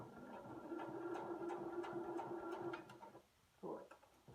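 A sewing machine stitches a fabric mask in a quiet, faint, steady run of about three seconds, with a rapid rhythmic needle pulse. A brief clunk follows after a short pause.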